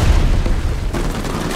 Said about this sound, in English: Just follow the sound of gunfire.